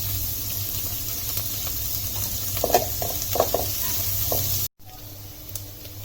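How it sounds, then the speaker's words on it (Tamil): Onions sauté in a pan for banana flower poriyal, making a lively, continuous sizzle with stirring scrapes scattered through it and a short gap near the end. "வெங்காயம் நல்லா வதங்கட்டும்."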